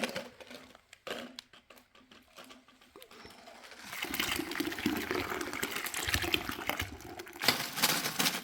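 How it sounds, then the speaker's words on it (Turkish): Ice cubes in cold water used for churning yogurt into butter: a few light clinks and knocks at first, then a steadier sloshing, pouring wash of water. "Buzların sesi."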